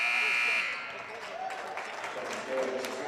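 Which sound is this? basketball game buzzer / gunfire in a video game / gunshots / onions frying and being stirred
basketball game buzzer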